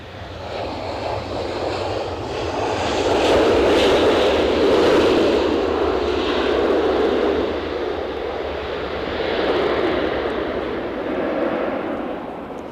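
An airplane arriving at Edinburgh Airport during a storm roars as a broad, heavy rumble that swells and eases over several seconds, loud and continuous amid blustery weather.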